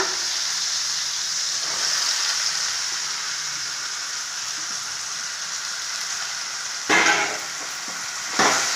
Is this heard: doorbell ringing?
no